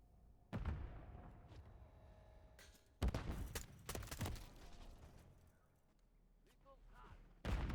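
Loud, sharp M16 rifle shots in a first-person shooter game played on hardcore mode, a burst near half a second, a dense cluster of cracks around three to four seconds, then another blast at the end, with quieter game ambience between.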